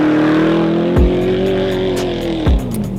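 A modified Porsche accelerates hard up through the gears with a loud, close engine note. Two sharp gear shifts break the rising roar, and no one talks.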